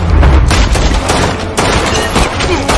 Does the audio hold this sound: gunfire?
yes